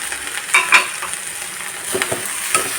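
Long bean thoran with grated coconut is stirred in a pan, giving a soft background sizzle with a few scraping strokes of a spoon, close and brief, no voices.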